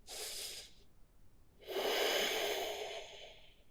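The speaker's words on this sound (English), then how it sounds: "Deep breathing here." Deep breathing during yoga child's pose: a short breath is heard, then after a pause a longer, fuller exhale hisses out steadily, close and soft, with no talking.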